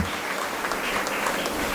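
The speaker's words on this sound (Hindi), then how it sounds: "तालिबा अपने लिए एक मरतबा खुद ही तालियां बजा लें और वेलकम कर लें" Brief burst of students clapping for themselves at a felicitation and motivational lecture event, a dense, even patter of many hands at moderate loudness.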